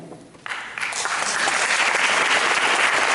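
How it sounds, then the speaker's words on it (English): Applause erupts from the audience at a state representative debate: after a brief quieter moment, clapping swells sharply into a loud, sustained roar of many hands. "Please hold your applause after."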